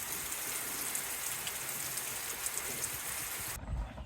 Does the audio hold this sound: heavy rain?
yes